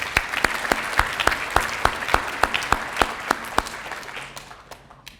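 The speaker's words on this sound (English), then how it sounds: "Let's give her a round of applause" Audience at a high school awards ceremony breaks into applause, a crisp run of claps that is clear and fairly even, then thins and fades near the end.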